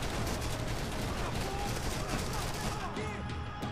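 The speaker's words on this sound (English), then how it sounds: "He came in with like this type of Gatling gun, machine gun, heavy ass gun." A heavy Gatling machine gun in Max Payne 3 fires in a sustained, dense burst, loud continuous rattling and blasts filling the mix with clutter from other gunfire.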